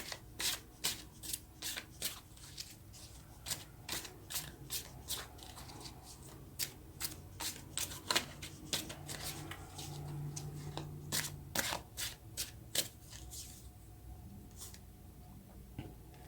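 Tarot cards are shuffled close by in a quiet room, with a rapid, rhythmic series of soft riffling snaps that trail off near the end.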